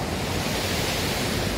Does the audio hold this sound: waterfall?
yes